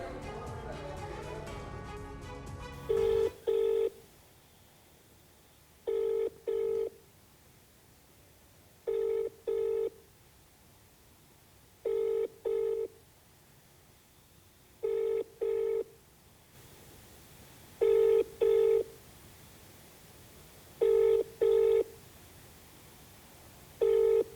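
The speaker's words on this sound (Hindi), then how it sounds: "उनको भी फोन लगाया गया।" A phone line gives a brief burst of dial tones, then repeated double-pulse ringback tones sound at a steady pace of about every three seconds, clear and alone with no one answering.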